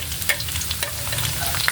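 Garlic frying in a pan for egg adobo, a steady close sizzle with light clicks of stirring scattered throughout.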